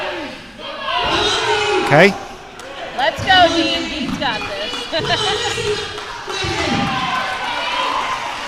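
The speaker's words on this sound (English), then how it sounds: "Crowd are getting loud." Spectators at a British under-80kg strongman competition grow louder during a decisive final rep, a broad crowd roar with shouts and cheers swelling beneath close commentary voices.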